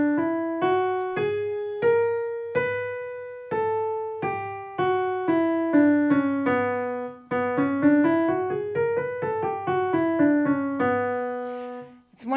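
Single melodic line of a minor scale played up and back down on a pitched instrument, about sixteen evenly spaced, sustained notes with rich harmonics, ascending through raised sixth and seventh degrees, then descending with them lowered, clear and close with no talking.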